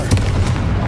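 A Confringo fire-blast spell cast in Hogwarts Legacy gives a loud, dense booming burst: a sharp impact near the start, then a rumbling low-end swell that carries on through the short moment without easing off.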